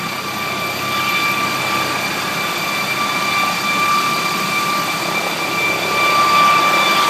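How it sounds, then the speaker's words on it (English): A helicopter flies over a park, its loud, steady roar of rotor and engine filling the air continuously and close by, with no voices over it. "Helicopter! Helicopter!"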